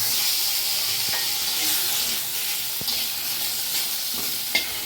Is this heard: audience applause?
no